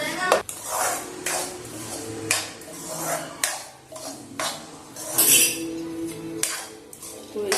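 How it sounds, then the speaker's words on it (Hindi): A metal spoon scrapes and clinks against a pan while powdered sugar is stirred into roasted gram flour and ghee for besan laddoos, in uneven bursts of close, rattling strokes. "अब मैं इसमें मिला रही हूँ शक्कर या पिसी हुई चीनी।"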